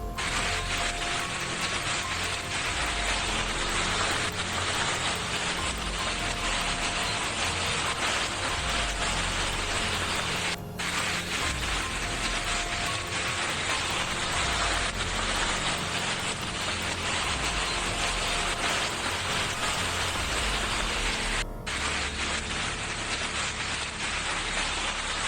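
Hailstones batter house roof tiles in Cianjur, a dense, continuous loud clatter that keeps up without a pause for the full length, with no talking heard.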